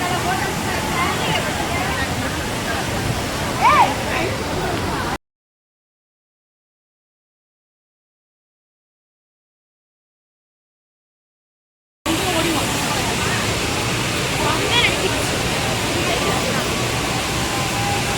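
Courtallam waterfall running with plenty of water, a loud dense roar of falling water heard close with a crowd's babble mixed in, broken by a long stretch of silence before the roar returns.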